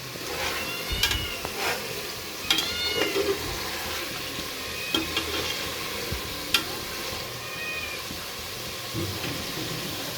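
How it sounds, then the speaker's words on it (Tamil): Onions sautéing for chicken biryani, a soft sizzle under irregular scrapes and knocks of a spoon stirring the pan, with a few thin squeaky sounds mixed in. "நம்ம கொஞ்சம் வதக்கி கிண்டி விட்டுகிட்டே இருக்கிறோம்"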